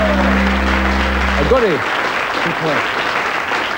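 Studio audience applause at a live charity broadcast, steady dense clapping that carries on throughout, while someone speaks briefly over it partway through.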